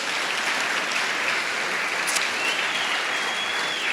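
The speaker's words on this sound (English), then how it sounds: "One round of applause for all of our folks." Steady applause from a staff audience at an all-staff gathering of Metro Parks Tacoma, a dense crowd clapping evenly for the full few seconds with no voices above it.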